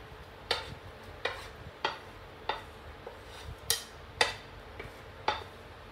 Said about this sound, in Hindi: घी में हम थोड़ा सौते करेंगे एप्पल को